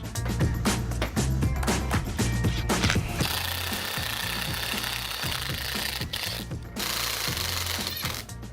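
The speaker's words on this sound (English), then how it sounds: "The concrete drill bit you use should be slightly smaller than the screw so the hole doesn't end up being too big and the screw still grabs." A masonry bit drills into concrete to make holes for Tapcon screws, a loud, close, grinding hammer-drill roar that runs in bursts with brief pauses and a short stop before starting again.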